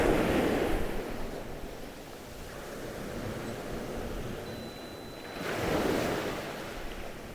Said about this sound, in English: waiting for the waves to come in